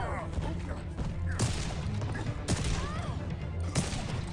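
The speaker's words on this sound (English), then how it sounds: "Taking a gunshot here over and over again to the face is RevetLeafing" Repeated gunshots ring out in a fighting video game during a top-16 tournament match involving Hellboy, sharp blasts roughly every second over a busy game soundtrack, with a commentator talking throughout.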